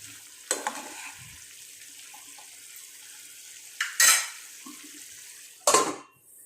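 A spoon scrapes and clatters in a pan of chicken pepper fry in three short bursts, each with a sizzle, over a faint steady background hiss.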